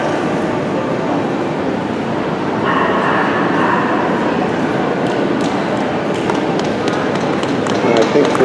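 A dog yips and barks in short bursts amid other noise, with people talking over it.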